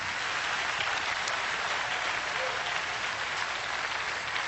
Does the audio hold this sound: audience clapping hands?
yes